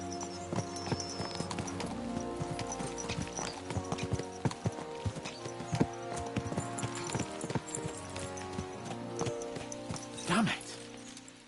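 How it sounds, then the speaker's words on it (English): Horse hooves clip-clop steadily through a medieval video game set in the kingdom of King Wenceslas, the hoofbeats running under continuous music and game sounds, with a voice talking over them. "Let's really spur these horses on, eh?"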